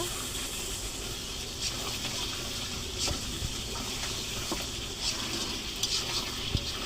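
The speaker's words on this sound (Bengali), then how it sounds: "ঢাকনা উঠিয়ে নেব মাংসগুলো ভালোভাবে নেড়ে চেড়ে নেব" Beef bhuna meat is stirred in a pan after the lid comes off, a dense continuous sizzle with faint scraping and occasional light knocks of the spoon, close up and without speech.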